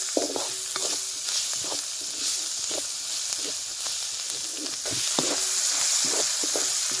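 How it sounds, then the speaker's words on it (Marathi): Village-style tempering of turmeric and curry leaves sizzles in hot oil in a pan over a wood-fired stove while being stirred, a close, constant hiss broken by repeated short scraping strokes. "गावरान फोडणी तयार झाली बघा"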